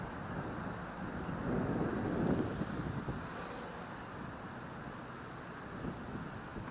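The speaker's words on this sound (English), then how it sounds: "And it is windy." Steady wind in a park rumbles and buffets against the microphone, a continuous broadband roar that swells slightly midway, with no voices.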